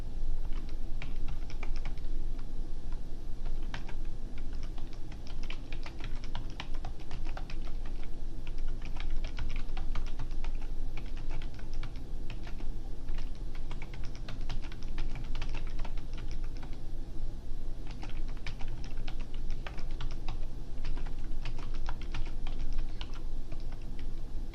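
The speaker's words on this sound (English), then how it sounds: "we're going to type the text that it asks us for" Fingers type on a computer keyboard in a steady, continuous run of key clicks with brief pauses, close and clear for the whole stretch, with no talking.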